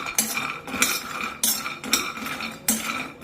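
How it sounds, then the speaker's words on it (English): Almonds roasting in ghee are stirred in a pan, with repeated scraping strokes of a utensil against the metal in an uneven rhythm, close and clear, with no talking. "Okay, keep stirring it like that."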